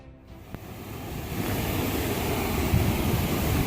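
Water pours over a small weir beside a pumping station on a walking track. The rushing wash builds from quiet to a steady, close, noisy roar after a faint click near the start.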